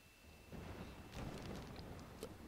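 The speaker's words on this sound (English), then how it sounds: "The lightning strike the tree." Lightning strikes a tree in the game Final Fantasy XIV, followed by a low, rolling rumble of thunder that swells and stays fairly quiet and distant, with no voices.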